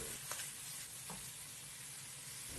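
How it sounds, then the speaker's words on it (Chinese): A short, steady hiss of sauce stir-fried over high heat in a wok for a tomato, potato and beef stew. The faint even sizzle holds throughout, with a couple of soft scrapes and no voices. "开大火快速翻炒，把酱炒熟炒香。"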